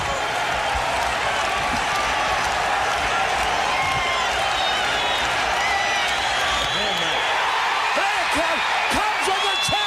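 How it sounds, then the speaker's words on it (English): A packed ballpark crowd roars for the Cubs in a 1984 broadcast recording, a loud, unbroken wall of cheering that holds for the whole stretch, with a faint voice buried beneath it. "Listen to this crowd."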